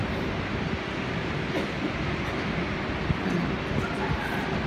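An SNCF RER B train at the Charles de Gaulle Airport Terminal 2 station gives a steady, broad rumble that fills the station air, with faint scattered knocks and no voices over it.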